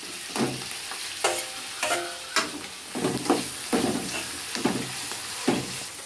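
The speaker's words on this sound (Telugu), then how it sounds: "తరిగి పెట్టుకున్న టమాటా పొలకలు అయితే వేసేసుకుంటుంది" Chopped tomato pieces sizzle in a pan for korameenu fish curry, with repeated stirring scrapes every second or so over a constant frying hiss.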